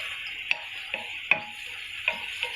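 Marinated chicken tikka cooks dry in masala in a karahi. A soft steady sizzle plays under a few sharp clinks of a spoon stirring against the metal pan.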